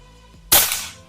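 A Bocap Guardian air rifle fires its fourth shot, a single sharp crack that rises out of quiet handling noise and decays over about half a second.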